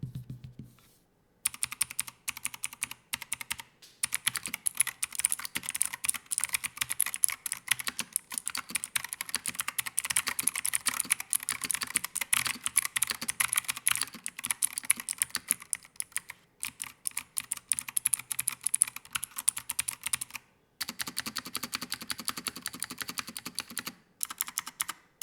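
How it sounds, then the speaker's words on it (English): Fast, steady typing on a Razer keyboard with Green clicky mechanical switches, each keystroke a crisp, sharp click close to the listener, running continuously for long stretches with a few brief pauses and no talking. "it is one of my favorite clicky switches because they're not too loud and have a pleasant crisp factor"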